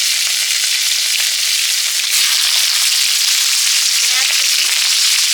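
Panch phoron spices sizzle in hot oil, a loud, constant, close hiss of frying with fine crackle throughout and no talk.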